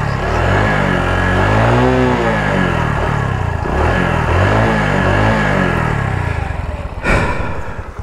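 Motorcycle engine on a ride in southwest Madagascar, suffering a fault that keeps it from revving cleanly, drones loudly and steadily up close with wavering, uneven rises in pitch and no talk.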